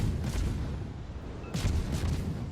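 Warship guns fire in the naval combat game World of Warships with a few deep, booming salvos that roll out over a rumbling background.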